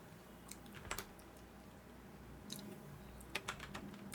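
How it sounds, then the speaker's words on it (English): Computer keyboard keys clatter in scattered short bursts of quick, faint clicks separated by pauses, close by in a quiet room with no talking. "I'm typing in something wrong"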